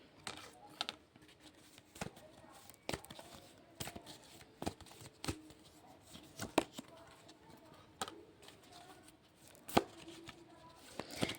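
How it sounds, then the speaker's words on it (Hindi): Tarot cards being shuffled and drawn, a series of soft, irregular taps and flicks spaced a second or so apart, close and quiet with no speech. "तो पहले कुछ कार्ड निकाल लेंगे"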